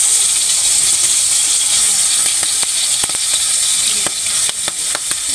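Pieces of pangas fish fry in hot oil in a pan, giving a loud, continuous sizzle with steady bubbling and scattered sharp pops and spits throughout.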